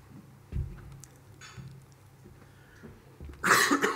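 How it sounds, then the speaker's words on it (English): A single sharp cough bursts out near the end after a quiet stretch with faint thumps and rustling. "Everyone's got that weird cough."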